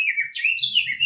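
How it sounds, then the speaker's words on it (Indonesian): A small bird chirps and tweets continuously for about a second in a steady run of high, bright calls. It sounds fairly close and clear, with no talking over it. "maaf suaranya burung nih."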